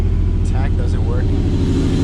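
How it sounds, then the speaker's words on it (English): A BMW E39 idles with its muffler removed, a steady deep low rumble close by while someone talks over it. "It sounds cool without the muffler. It sounds really deep."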